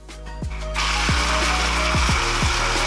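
A blender whirs steadily through dates, coconut, pistachios, almonds and sesame seeds for energy balls, with repeated low knocking thuds as the blades catch the thick mixture.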